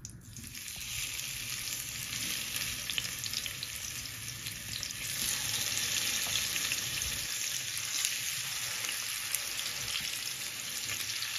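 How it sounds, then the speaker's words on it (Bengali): Small puti fish fry in a pan of hot oil, giving a steady, close sizzle with a faint watery hiss and occasional light stirring, no voices present. "আবার এখন আমি মাছগুলো দিয়ে দিচ্ছি ফ্রাই করার জন্য।"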